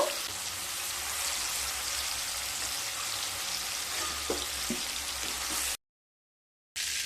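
Pumpkin pieces fry lightly in hot oil, giving a steady bright sizzle with a few soft stirring knocks before the sound cuts to silence near the end.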